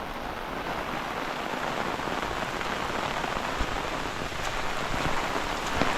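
Heavy rain pours steadily over a village in Konkan during a windy storm, a dense continuous hiss of drops on surfaces with occasional louder splashes, no voices.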